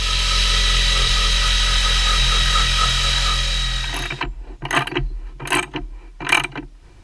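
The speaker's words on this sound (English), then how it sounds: "cleaning them down with an old school method of a wire wheel and a drill" Wire wheel spun by a drill cleans bolts held in a vise, a loud continuous whirring grind that stops partway, followed by several short bursts of brushing as the drill is pulsed on and off.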